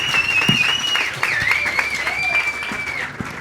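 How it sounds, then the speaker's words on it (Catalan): An audience claps for Marina Vidal as she joins a Catalan podcast recording, a steady wash of applause lasting the whole stretch, with a sustained electronic tone gliding over it. "Un aplaudiment per ella"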